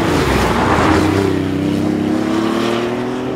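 BMW i8 hybrid sports car driving, its engine a close, steady drone whose pitch climbs gradually as it accelerates, with no voices.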